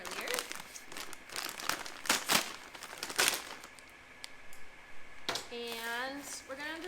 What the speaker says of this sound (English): cut open your bag of soil